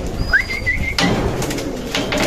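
Pigeons kept at home, calling with soft coos and short tonal notes, followed by a brief flutter or rustle midway, with steady background noise throughout.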